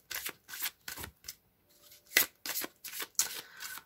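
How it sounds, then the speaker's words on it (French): Oracle cards being shuffled by hand in a series of quick, crisp riffling bursts with short pauses between them, close and fairly quiet, no talking. "Juste mélanger un peu plus."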